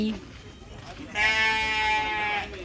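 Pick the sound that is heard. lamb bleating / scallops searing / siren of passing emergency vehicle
lamb bleating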